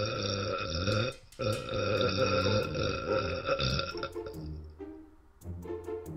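One long continuous burp from a burping challenge submission, loud, deep and gurgling for about four seconds with a brief break, then trailing off into softer wet croaks.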